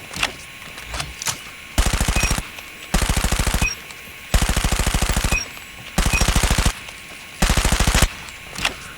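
Automatic weapon fire in the video game COD Mobile comes in five loud, rapid bursts, each about a second long, separated by short pauses, with no speech.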